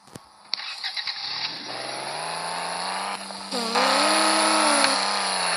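A video game car engine cranks with a few sharp clicks, then catches and settles into a steady buzzing idle that climbs to a louder, higher rev near the end. It is heard alone and up close.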